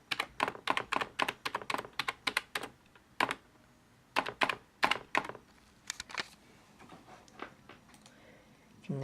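Typing on the keyboard of a ThinkPad T61 laptop, close and crisp bursts of rapid key clicks with short pauses between runs, then sparser taps toward the end.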